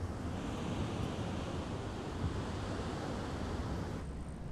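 Sea surf rolls in a steady, low wash of breaking waves, faint and continuous, with wind rumble on the microphone and no voices.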